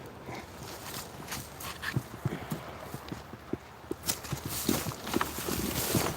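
A horse walks in a game, its hooves clip-clopping in a steady, moderately close rhythm against a noisy ambient background, with no talking.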